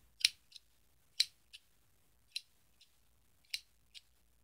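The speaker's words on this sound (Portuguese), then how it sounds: "só uma tesoura" Scissors snip crisply and close up, with sharp cuts coming in loose pairs at an unhurried pace against an otherwise quiet room and no talking.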